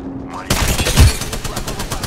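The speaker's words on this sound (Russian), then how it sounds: "Кидаю осколочную." A frag grenade goes off in a video game with a sudden loud boom and heavy rumble, followed by a pulsing burst of gunfire-like crackles, under voice chat.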